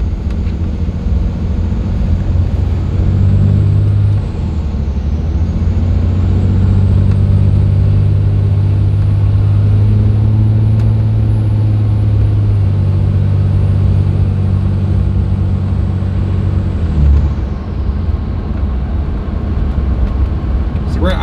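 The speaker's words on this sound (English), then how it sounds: "We're at idle right now, and it says we're at like 1700 RPMs." A 5.9 24-valve Cummins diesel engine idling at a high idle, giving a loud, steady low rumble that holds throughout with slight shifts in pitch.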